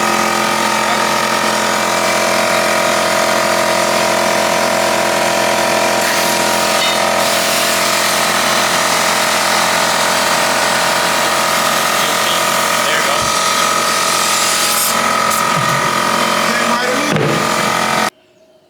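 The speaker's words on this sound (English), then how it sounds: "we're gonna take my air compressor and put some air in between the buckets and see if it'll release them" An air compressor blows air between stuck, nested garden buckets, making a loud, steady hiss and motor roar that runs for about eighteen seconds before cutting off abruptly.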